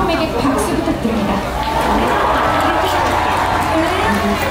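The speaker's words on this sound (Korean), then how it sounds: "And a big hand for Tom Cruise being here 10th time" A large crowd of fans at a Top Gun 2 red carpet event at Lotte World Tower, steady roaring applause and cheering that holds for the whole stretch, with a voice over a loudspeaker.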